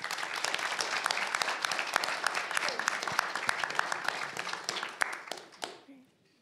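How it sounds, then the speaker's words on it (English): An audience claps for a marketing leaders panel, a full round of applause with sharp individual claps standing out, holding steady for several seconds before thinning out and fading to quiet. "Can we give another round of applause?"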